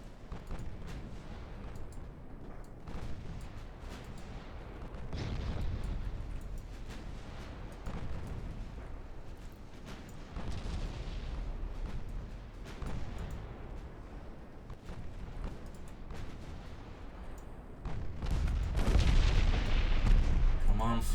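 Naval guns boom repeatedly in the warship game Ultimate Admiral Dreadnoughts, deep rumbling salvos rolling at intervals with a heavier barrage near the end.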